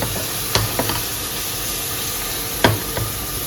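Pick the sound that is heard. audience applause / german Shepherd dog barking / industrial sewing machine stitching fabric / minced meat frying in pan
minced meat frying in pan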